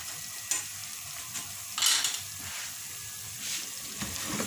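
Spicy chicken fries over low heat while being mixed, a steady sizzle with intermittent scraping stirs and a louder clatter midway, close and without talk.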